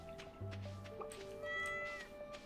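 A pet cat in the Stardew Valley farming game meows a few times, drawn-out and clear, over soft background game music.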